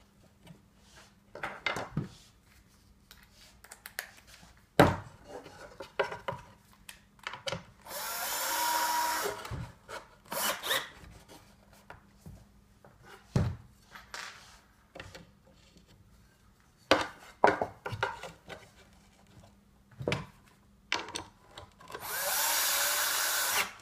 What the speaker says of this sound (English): I like to just fasten those to the wall. Using drywall screws.